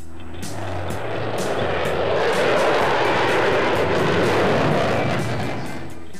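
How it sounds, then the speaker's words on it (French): Indian, French, American and Russian combat jets roar overhead at an aerial display opening a major arms fair in Bangalore, southern India, a loud, sustained engine rumble that swells and fades with crackling bursts. "Rugissant dans le ciel de Bangalore dans le sud de l'Inde, un balai aérien pour ouvrir l'un des plus importants salons de l'armement en Asie."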